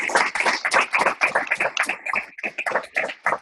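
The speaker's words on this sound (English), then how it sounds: "give a warm round of applause" A small audience claps to welcome Pro Football Hall of Famer Joe DeLamielleure, a close, fairly sparse run of distinct hand claps in an uneven rhythm, with no talking.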